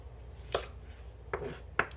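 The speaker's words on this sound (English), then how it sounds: "Just rough chopping up our peppers." Knife strokes rough-chopping bell peppers for meatloaf on a cutting board, three separate sharp chops spaced apart over a low room hum, fairly faint and with no talking.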